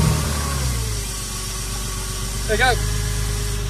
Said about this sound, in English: So now let's start her up and just make sure it all runs.